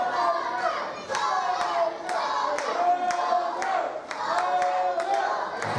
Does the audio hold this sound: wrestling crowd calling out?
yes